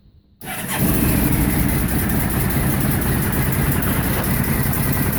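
A Honda ST1100 engine fitted in a Triumph Herald cranks and catches after a short silence, then settles into a loud, steady rumbling idle up close.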